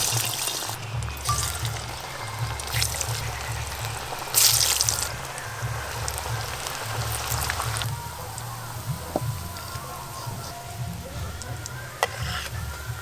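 Banana flower koftas stuffed with shrimp fry gently in hot oil with a soft, bubbling sizzle, broken by a few utensil clinks and a brief louder burst.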